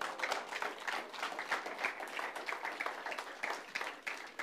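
A church congregation applauds at a Sunday service, steady rhythmic clapping from many hands continuing throughout at moderate volume.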